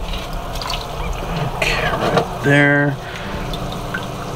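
Water is poured into a hexagon fish tank with a rocky bottom, giving a soft splashing and then a brief, resonant gurgling fill. A person speaks briefly nearby.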